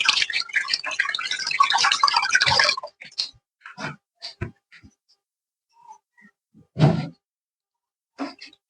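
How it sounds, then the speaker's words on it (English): Hands rinsed under a running kitchen tap while making pancakes: a steady close rush of water for about three seconds, then scattered small splashes, drips and clunks with pauses between. "Let me wash my hands."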